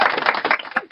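A short burst of crisp, rapid clapping plays as a button-triggered sound effect, bright and dense for about a second with no talk over it.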